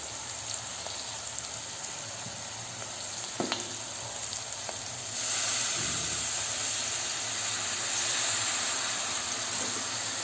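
Chicken frying in oil hisses softly in a pan, then water poured in sets off a sudden louder, steady steaming sizzle that holds to the end.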